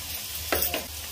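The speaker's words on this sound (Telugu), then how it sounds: "జస్ట్ ఒక 2-3 మినిట్స్లో మనకి రొయ్యలు వేగిపోతాయి" Prawns fry in a pan for a curry, a bright steady sizzle with a couple of quick stirring scrapes in the middle of a short, close burst, no one speaking.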